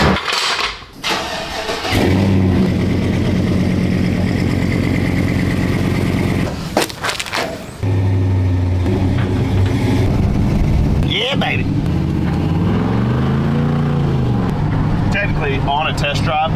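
A truck engine runs loud and steady on a test drive, revving and shifting with a brief drop and restart partway through, while someone talks over it.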